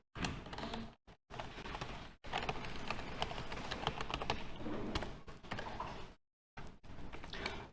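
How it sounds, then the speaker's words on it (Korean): Rapid typing on a computer keyboard, dense bursts of close key clicks separated by short silent pauses, fairly quiet and with no talk. "컨트롤 N 눌러서 텍스트 애니메이션 2라고 써주세요."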